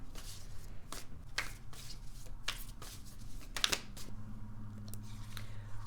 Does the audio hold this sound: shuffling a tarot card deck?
yes